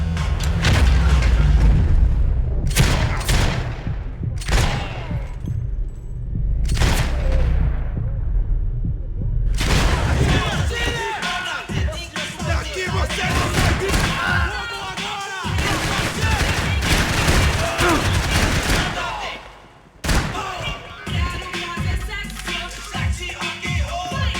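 Sharp gunshots crack loudly in Max Payne 3, first as several separate shots and then as dense, rapid bursts of fire mixed with booming impacts.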